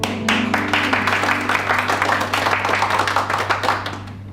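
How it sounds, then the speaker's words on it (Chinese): A group of soldiers claps in a burst of quick, close hand claps that rattle on for several seconds before tapering off, over a steady low hum. "鼓掌。"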